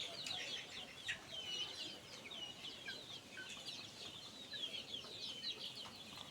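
Forty-day-old Australorp chickens drinking water on a farm give soft, steady peeping and clucking, fairly quiet and continuous throughout, with no talk.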